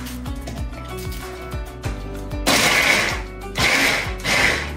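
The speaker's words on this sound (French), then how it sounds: "Je vais mixer de l'oignon." An electric blender chops onion for harira, a Moroccan soup, opening with a whirring, ratcheting motor run that breaks into two loud, rough bursts of blending close by.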